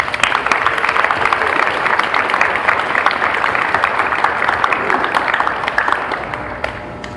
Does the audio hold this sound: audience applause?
yes